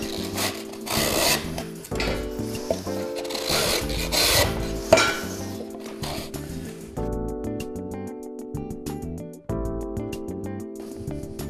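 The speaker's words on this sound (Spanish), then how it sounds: "con un cepillo repasamos los cantos." A hand plane scrapes along plasterboard edges while a hole in a plaster partition wall is patched, giving repeated rasping strokes over steady background music, fairly close and with no speech.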